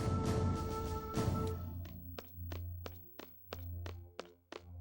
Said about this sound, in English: Laser cannon.